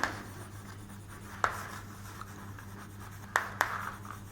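Pen scratching on paper or a board during a maths lecture, faint and quiet with a few sharper taps and strokes standing out from a low steady hum.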